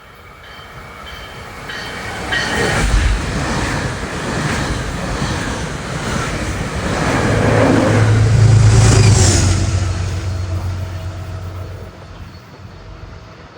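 A Heritage P32 locomotive hauls a passenger train toward the listener and rumbles past, the roar swelling to a loud peak near the middle with a low engine drone, then fading as the cars roll away.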